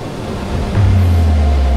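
Underground train on the London Tube at Bond Street station in the game Late Shift, a low rumbling drone that swells in and then holds steady and loud, with no talk over it.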